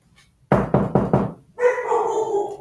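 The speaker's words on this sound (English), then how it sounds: "He's barking out there now." Four quick, sharp knocks sound close by, and a dog answers right after with one drawn-out, tonal bark that fades into a whine.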